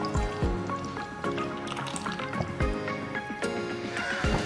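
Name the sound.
pouring dissolved custard powder mixture into milk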